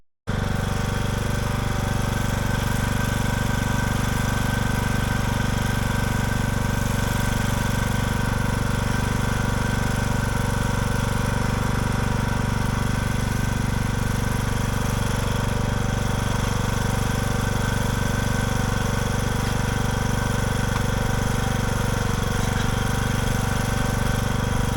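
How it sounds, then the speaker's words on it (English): A small lawn tractor engine runs at a steady, close, loud drone with a rough mechanical rattle throughout, with no voices. "you break out the little lawn tractor"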